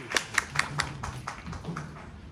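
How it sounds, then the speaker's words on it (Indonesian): Sparse, light applause from a small audience at a press conference for the Indonesia Open 2023 badminton tournament, a handful of quick claps that soon thin into scattered taps. "Tepuk tangannya mana"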